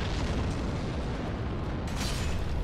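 Bombs explode in a thick, continuous rumble during Dark Souls in Sen's Fortress, a heavy booming roar that swells again near the end, with no voices.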